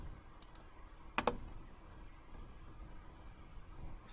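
A few quick, sharp clicks from a computer mouse and keyboard come in a short burst against a low steady hum, then the room goes quiet.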